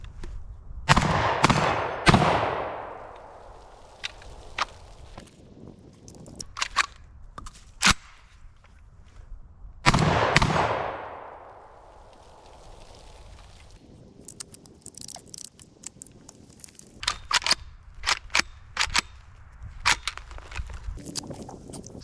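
Fostech Origin 12 shotgun loaded with BioAmmo number 9 shot fires two loud, sharp blasts about eight seconds apart, each trailing into a brief decay, with scattered clicks and handling noises between the shots.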